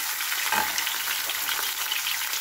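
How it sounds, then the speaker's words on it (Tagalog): Talakitok fish sizzles and crackles in hot oil in a pan, a continuous close hiss with small popping spatters, no talking. "Prito ko muna po itong aking isda"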